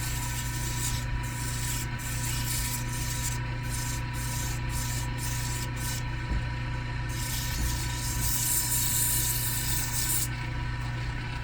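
Steady abrasive rubbing of sandpaper on a carved wooden rook chess piece, a continuous close scratchy hiss with rhythmic back-and-forth strokes under a constant low background hum.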